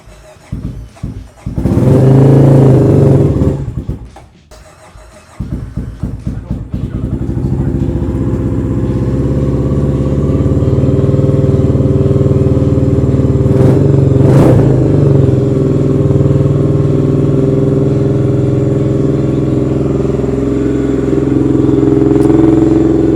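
A 1990 Honda GB500 single-cylinder motorcycle cranks with a few stuttering attempts, catches loudly and settles into a steady, throbbing idle close by, running alone without choke for the rest of the stretch.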